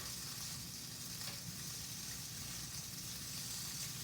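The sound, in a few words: polenta sizzling on the grill after flipping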